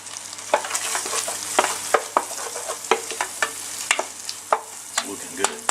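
Onions and garlic sizzle steadily in a pan while an oak wooden spoon stirs them in a quick series of close, distinct scraping strokes.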